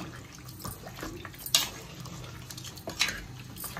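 A spoon stirs goat brain curry in a pot after water has been added, making wet sloshing with a few sharp clinks of metal against the pot.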